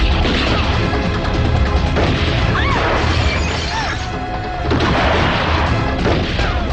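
Gunfire rips through a Hindi action movie scene from Arjun Pandit (1999), loud and continuous with crashing, shattering impacts and booming shots layered over nearly seven seconds.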